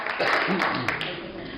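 Audience applause at a batch reunion awards gathering, a dense, steady wash of clapping lasting the whole moment, with a voice speaking over it.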